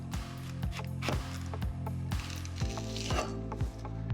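A knife chops repeatedly through crisp pak choi on a board, a steady series of sharp, close taps and crunches with no talking.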